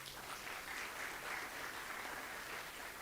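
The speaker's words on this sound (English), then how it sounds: "A big clap for him." Crowd applause at a university convocation ceremony, a continuous even roar of many hands clapping, fairly distant and uniform throughout.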